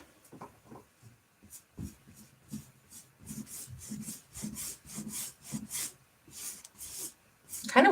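Palette knife scraping paint across a canvas, a series of soft rasping scrapes in an uneven rhythm, close and fairly quiet, growing a little stronger toward the end.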